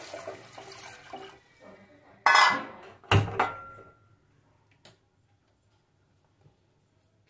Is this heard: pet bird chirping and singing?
no